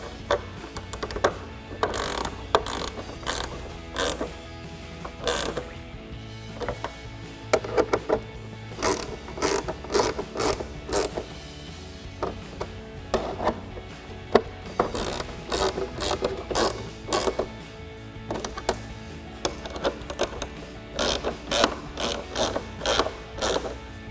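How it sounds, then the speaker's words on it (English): A 10mm ratcheting wrench tightens the bolts of a GT-style rear spoiler on a 2024-2025 Mustang deck lid, giving repeated bursts of quick, close metallic clicking with short pauses between strokes and no talking. "grab a 10mm ratcheting wrench and start tightening down your bolts"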